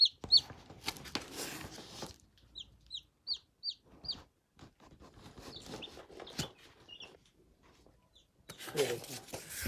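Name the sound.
chicks cheeping as they are picked up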